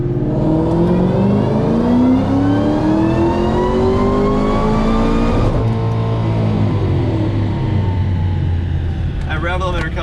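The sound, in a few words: car engine revving to rev limiter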